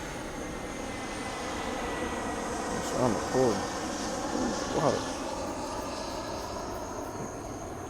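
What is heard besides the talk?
airplane passing overhead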